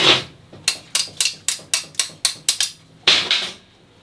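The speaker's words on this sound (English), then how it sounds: "Gotta get a little bit of that flux off of there." A chipping hammer knocks slag flux off a 7018 stick weld in about ten sharp, evenly spaced metallic raps, close and loud, with a brief scraping burst near the end.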